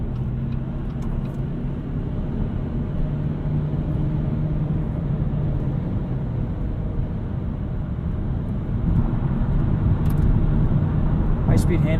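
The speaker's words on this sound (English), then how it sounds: "All you hear is tire and wind noise." Tire and wind noise fill the cabin of a 2016 Chevrolet Volt cruising at speed on a windy day, a steady low road roar with a few faint clicks near the end.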